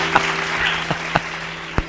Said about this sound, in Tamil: கைத்தட்டு. ஆமென்.